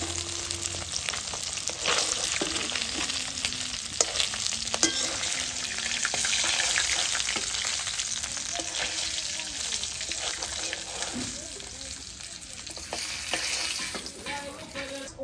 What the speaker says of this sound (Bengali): তো মাছ ভাজা হয়ে গেছে, নামিয়ে নিব।